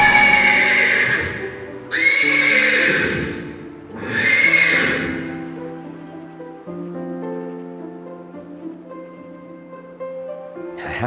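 Chariot horses in a video game give three loud, close whinnies in the first five seconds, each a harsh rising neigh, then fade under a calm sustained musical score.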